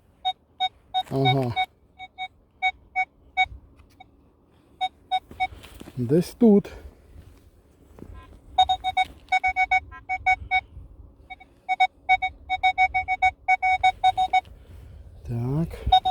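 A Legend WHP PRO metal detector emits repeated short electronic beeps in clustered bursts while digging at an old farmstead, with a few rising warbling tones and brief speech in between.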